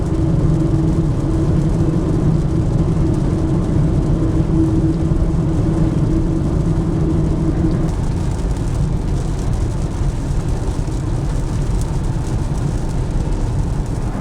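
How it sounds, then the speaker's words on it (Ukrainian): Inside a Kia Niro EV on a rough, tank-worn road in the rain, a steady broadband rumble of tyres and rain fills the cabin, loud and constant with a slight shift in tone partway through. "Прошу прислухатись до рівня шуму під час дощу по дорозі, по якій їздили танки."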